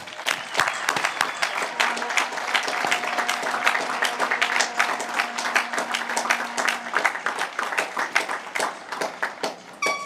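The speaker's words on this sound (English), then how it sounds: "applause they deserve." An audience at the Berkeley Institute graduation ceremony for the Class of 2025 applauds faculty and staff with steady, crisp clapping that holds throughout, thinning slightly toward the end.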